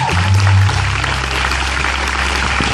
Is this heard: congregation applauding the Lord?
yes